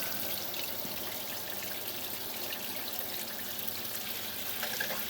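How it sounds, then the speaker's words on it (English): Steady broadband rush of water running from a pop-up camper's shower tap, continuous and fairly close, with no voices. "So we're flowing water there."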